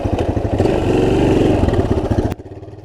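A light rally motorcycle on the Dakar rally, its engine revving loud and close with a rough pulsing throb that ends in an abrupt drop to a lower idle.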